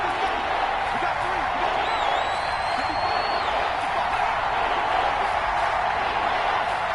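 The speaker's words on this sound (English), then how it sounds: "this crowd's going to get even louder" A football stadium crowd in a video game roars steadily, a dense wash of cheering and whooping that holds at an even level from start to finish.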